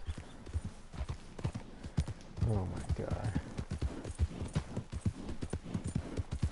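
Rapid, rhythmic hoofbeats of a horse trotting in the video game Red Dead Redemption 2, steady and close, with a voice speaking briefly over them.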